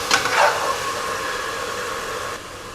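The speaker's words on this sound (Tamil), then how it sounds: "இஞ்சி பூண்டு பேஸ்ட்டு உள்ளே சேர்த்துடலாம். கொஞ்சம் ராஸ்மெல் போகிற வரைக்கும் நல்லா ஃப்ரை பண்ணிக்கலாம்." Ginger garlic paste frying with spices in a pan, a steady close sizzle throughout, with a few brief clinks of stirring near the start.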